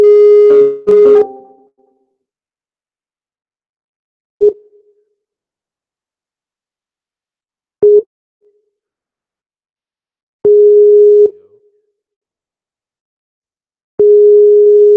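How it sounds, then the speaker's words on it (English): A Skype call ringing tone repeats in short bursts, with long silent gaps between rings, clear and fairly close, no voices. "sounds of Skype calling"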